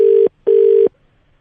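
An outgoing phone line rings for a prank call: two loud, steady ringback tones, each about a third of a second long, separated by a short gap and followed by quiet.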